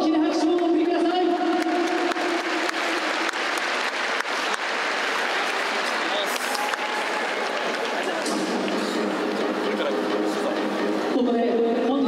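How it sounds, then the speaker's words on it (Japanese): A large stadium audience applauds for the singer of the national anthem, a dense, steady wash of clapping with crowd murmur that carries on for several seconds before thinning out, with voices underneath. "大きな拍手をお送りください"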